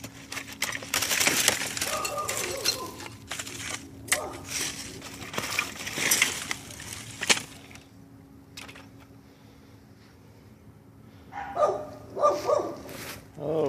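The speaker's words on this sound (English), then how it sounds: "Oh, shut up, dogs." Dogs bark in bursts near the start and again toward the end during a curbside trash-picking outing, loud and fairly close, with a clattering of scrap and a voice in between.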